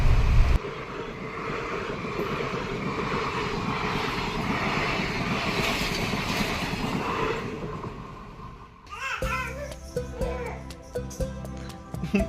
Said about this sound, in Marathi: ही दुसरी ट्रेन आता जाताना